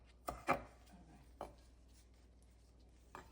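Tomatoes being sliced with a knife while preparing a hot habanero pepper sauce: a few sharp, separate cutting taps on a board, close and fairly quiet, with pauses between strokes and no talking.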